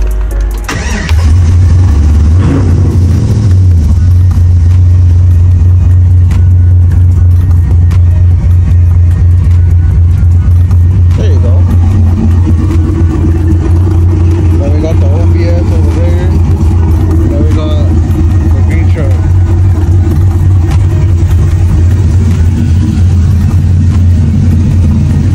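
A Chevrolet C10 truck engine cranks, catches and settles into a steady, loud, low idle to warm up, running continuously with faint shifts in pitch.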